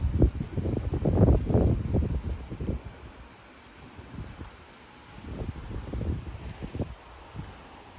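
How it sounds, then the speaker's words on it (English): Wind gusting around 40 to 50 mph through live oak trees during a severe thunderstorm in Frisco, Texas, a loud rushing swish that surges, eases midway, then builds again, with no speech. "I can literally hear those live oaks swishing."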